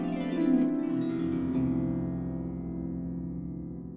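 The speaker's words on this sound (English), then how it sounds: "what we call a harp glissando," A harp glissando strummed across all the strings, a rich sweeping wash of plucked tones that swells early and then rings on, slowly decaying over several seconds with no other sounds.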